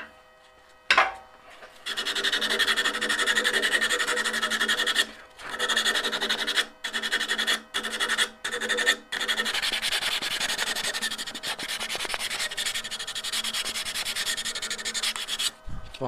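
A wood-turned piece, made from a glued-up block on an eccentric lathe setup, is sanded with a steady, close, loud rasping hiss that breaks off in several short pauses before carrying on continuously. No one speaks.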